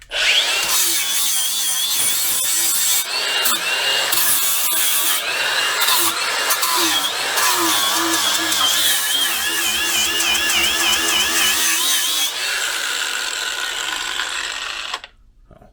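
A Bauer brushless angle grinder spinning at 10,500 RPM screeches steadily against material, loud and close, with a harsh rasping whine that cuts off and spins down at the end, as if braked.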